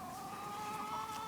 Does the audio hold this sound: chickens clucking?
yes